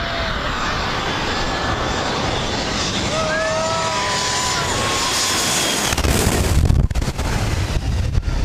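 A Boeing 727 airliner comes in very low on landing at St. Martin, just a few feet above the fence. Its jet engines roar steadily and loudly, swelling into a heavier, rumbling blast near the end as it passes close.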